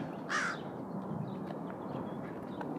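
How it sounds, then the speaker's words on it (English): A crow caws once, clear but somewhat distant, near a school's front entrance with pine trees, over a steady outdoor ambience of wind and faint traffic. "Now there's a crow."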